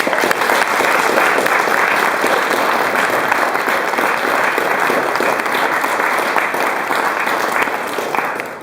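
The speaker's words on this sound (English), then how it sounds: "Please join me in giving them a round of applause." Dense, sustained audience applause at a West Papua campaign event, loud and continuous throughout with no speech over it, tapering slightly at the very end.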